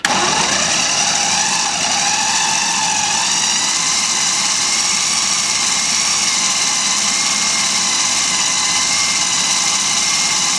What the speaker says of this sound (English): Let's get the lid on, and we're going to puree.